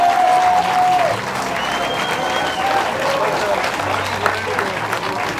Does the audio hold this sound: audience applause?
yes